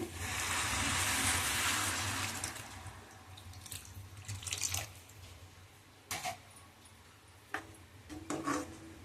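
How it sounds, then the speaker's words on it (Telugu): Tamarind water pours with a hissing, sizzling rush into a hot pan for about two seconds, followed by scattered scraping and clinking sounds. "చింతపండు నీళ్ళు పోసుకుందామండి"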